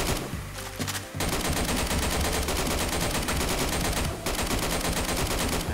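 Rapid video game gunfire shooting enemies, dense continuous bursts like automatic weapons fire, loud and nearly unbroken apart from a short gap near the start and another brief dip later.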